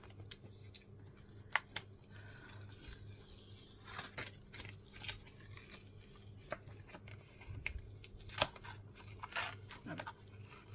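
Card stock being cut for a handmade summer fairy papercraft card, with short crisp snips and rustles scattered unevenly over a quiet, low hum, fairly close and soft.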